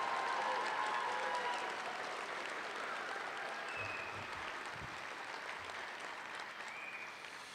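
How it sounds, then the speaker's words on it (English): A large crowd keeps up a steady round of applause at a Polaris High School graduation ceremony, the clapping dense and even throughout and slowly tapering, with a few scattered cheers and no one speaking. "Can we get another round of applause for these people for speaking up?"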